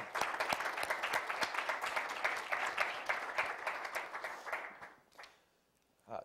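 An audience applauds in a sustained burst of clapping to welcome Senator Norm Coleman at a leadership speaker event, fading out before a final short swell.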